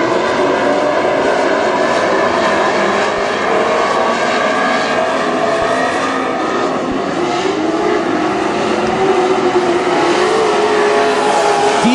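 WISSOTA super stock race cars roar around the North Central Speedway oval in a heat race, a dense, continuous engine drone with shifting pitch as the pack passes, loud and steady throughout.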